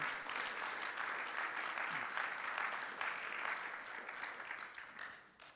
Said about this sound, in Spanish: Dale un fuerte aplauso ahora sí